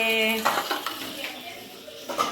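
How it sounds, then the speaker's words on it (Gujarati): Dishes, pots and steel utensils clattering during washing, a few close sharp clinks and knocks spaced unevenly after a brief tonal ring at the start. "મમ્મી વાસણ કરે છે"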